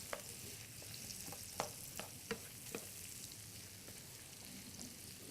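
Zucchini and squash cooking in butter and oil in a pan, a soft steady sizzle with a few louder clicks and scrapes of stirring scattered through, no talking.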